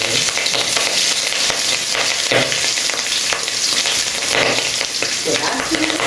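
Meat and pigtail frying in a pot seasoned with cayenne pepper, giving a loud, steady sizzle with occasional stirring scrapes throughout.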